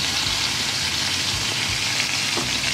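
Pork frying in its own rendered fat while adobo is cooked, a loud, dense, continuous crackling sizzle, close up and steady throughout.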